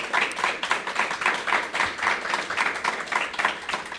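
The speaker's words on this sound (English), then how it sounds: "let's have some applause" Rhythmic, fairly sparse clapping from a small audience at a charity fundraising event, a pulsing patter of hands at moderate distance with no talk.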